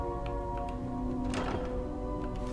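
A grand loot chest opens in Skyrim's Reachwater Rock dungeon with a single muffled wooden thunk midway, set against a steady droning music background.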